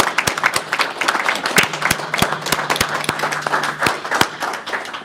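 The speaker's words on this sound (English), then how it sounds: "I think we owe him a round of applause with everyone else he just named." Board members and attendees at a Port Authority of New York and New Jersey board meeting applaud the chairman, with a lively burst of clapping in which several sharp, close individual claps stand out from the room.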